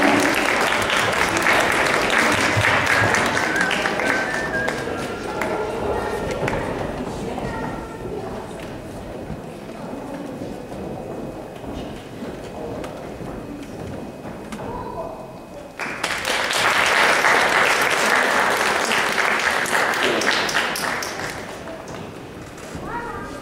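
Audience at an Easter concert in Glazov, 2014, applauds an ensemble of performers, steady dense clapping that eases off in the middle and then swells loudly again, with some voices mixed in.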